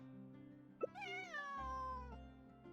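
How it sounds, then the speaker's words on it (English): Lynette, a cat-like character in Genshin Impact, gives a single drawn-out, rising then falling meow lasting over a second, clear and close over soft game background music. "I didn't know Lynette will meow for me."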